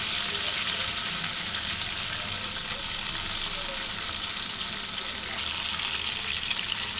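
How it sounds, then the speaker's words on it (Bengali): Chicken wings fry slowly over low heat in oil, giving a constant, dense, close sizzle that stays even from start to finish with no voices. "এটা অল্প জালে আস্তে আস্তে করে ভাজতে হবে, খুব বেশি জাল দিয়ে ভাজা যাবে না"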